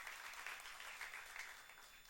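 A church youth congregation applauds during a sermon, a steady, fairly soft wash of many hands clapping at a distance for about two seconds with no voices on top.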